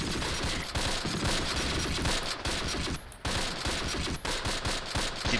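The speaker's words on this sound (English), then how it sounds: "There goes the artillery. It's falling." Artillery falls in the World War II strategy game Close Combat, a dense, loud barrage of rapid overlapping blasts and gunfire that barely lets up, with one short lull partway through.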